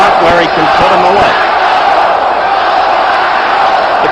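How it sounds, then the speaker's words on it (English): A boxing arena crowd roars for national champion Clyde Gray during his 1973 bout with Jose Napoles, a loud, sustained wash of voices with a commentator's voice over the first seconds. "The crowd roaring for its national champion, Gray."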